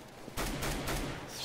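Rapid automatic gunfire in CS:GO, with shots fired through walls. A dense, continuous burst lasts over a second, fairly loud against game background noise, and no one speaks.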